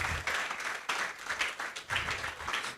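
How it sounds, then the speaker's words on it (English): Audience at a virtual assistant empowerment summit keynote gives sustained applause, a continuous rippling wash of clapping that swells and dips slightly throughout. "So please give her a round of applause."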